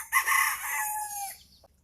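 A chicken in a coop with young cockerels and pullets lets out one loud, close, drawn-out crowing call that trails off, with no talking.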